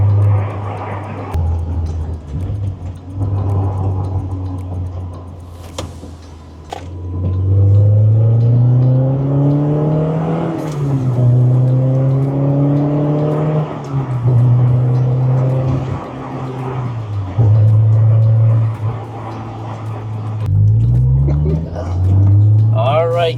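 A Honda S2000 sports car driving on the road, its engine droning and rising and falling through repeated revs and gear changes, loud and close throughout, with a voice talking over parts of it.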